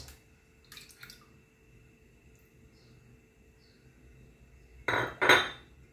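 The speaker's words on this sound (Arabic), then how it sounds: "وغنخلط مزيان. نستعمل هاد الفرشيطه هادي." A fork beats eggs in a bowl for a quiche, giving short bursts of clinking metal against the dish: one brief flurry early, then a louder, busier pair near the end.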